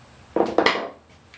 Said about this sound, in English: One way to tighten it up where it won't fall out is with the claws of the hammer.